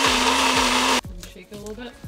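A Nutribullet blender whirs loudly and steadily as it mixes keto cinnamon roll batter, then cuts off abruptly after about a second, leaving quieter handling noises and a voice talking.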